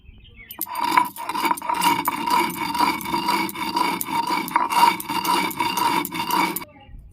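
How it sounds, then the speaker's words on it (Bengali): Coarse sugar being ground for a mango lassi, a continuous close gritty scraping and rasping that lasts around six seconds before fading out. "চিনিটা যেহেতু বড় বড় তাই আমি একটু বেটে নিচ্ছি"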